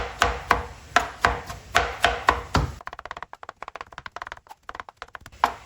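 A knife chops scooped-out tinda (round gourd) pulp on a cutting board, first in evenly spaced firm knocks about twice a second, then in a quicker, lighter patter of rapid taps, close and clear without speech.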